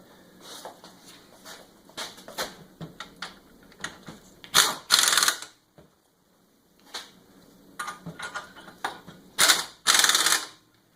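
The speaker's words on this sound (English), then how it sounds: "Once we got those started by hand, we'll hit them with the impact gun." Impact gun tightening wheel nuts on a Mitsubishi Outlander, with two loud, close hammering bursts among lighter mechanical clicks and rattles, and no talk.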